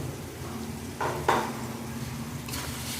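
Ground spices frying in oil with ginger, garlic, onion and tomato give a low, steady sizzle, broken by a few spoon-against-pan scrapes and taps. It is close and fairly quiet, with no talking.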